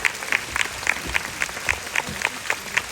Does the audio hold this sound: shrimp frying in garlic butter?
no